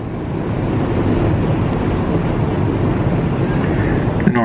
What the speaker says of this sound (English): We're going to get the big waves off the tugboat coming out towards us